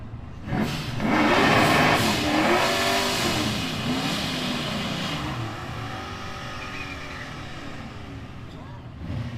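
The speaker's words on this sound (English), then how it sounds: "Sounds like we got some stick car action over in the right lane at Z28." A manual-transmission Z28 revs at a street drag race, its engine note climbing and dropping through several shifts in a wavering pattern, sitting mid-distance and moderately loud amid outdoor track ambience.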